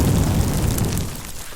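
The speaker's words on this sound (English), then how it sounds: "an explosion tore through the castle behind them" An explosion tears through a castle, a dense rumbling boom that fills the space loudly and then slowly fades, heard alone without voices.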